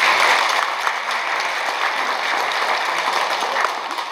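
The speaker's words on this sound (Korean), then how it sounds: "기념 큰 박수 부탁드립니다" Members at a credit union's annual general meeting give a big round of applause, a loud, dense patter of many hands clapping steadily before easing slightly toward the end.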